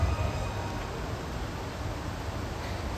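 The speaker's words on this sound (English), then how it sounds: "The Universal tram is winding its way through the area." The Universal Studios tour tram winds through the backlot, a steady wash of rolling, rumbling noise held at an even level throughout.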